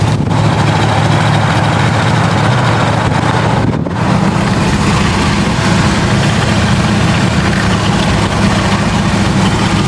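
The engine of a 52-year-old Jeep Wagoneer with a rough, smoky running condition, rumbling loud and low while the vintage vehicle drives along, steady throughout apart from a brief dip near the middle.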